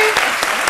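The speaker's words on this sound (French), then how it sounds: "il faut beaucoup applaudir pour lui." Studio audience on a French-language midday television show clapping in a brief, loud burst of dense, even applause.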